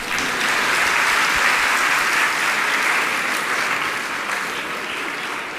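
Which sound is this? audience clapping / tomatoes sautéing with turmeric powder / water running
audience clapping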